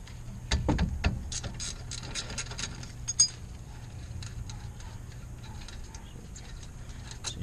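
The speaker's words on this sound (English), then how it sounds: "We're just going to take the 14 loose at the bottom." Ratchet wrench loosening a 14 mm bolt at the bottom of a car brake assembly, a run of quick close clicking pawl bursts with a few sharper knocks, all fairly faint and without talk.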